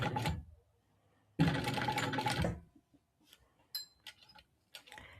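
A sewing machine stitches through a bag lining over tape in two bursts, a steady near whir about a second long each, followed by scattered small clicks and handling taps.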